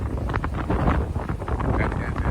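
Strong wind buffets a boat as it turns on open water in Patagonia, a dense, constant low roar with gusting rushes of wind noise against the microphone throughout.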